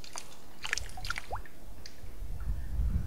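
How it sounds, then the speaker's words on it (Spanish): Clean water running through the Huallabamba irrigation canal trickles and drips in scattered wet splashes over a steady low rush, with no one talking. "vean este agüita pura limpia"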